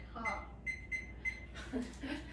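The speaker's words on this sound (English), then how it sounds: "So just putting the timer on for 10 minutes and put it on for 400 in the oven" An oven timer gives four short, evenly spaced electronic beeps while it is being set, followed by someone speaking briefly in a home kitchen.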